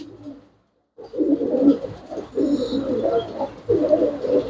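Close pigeons of the solid-coloured Thalla breed give repeated low, throaty coos in three bursts after a brief silence, with no one talking.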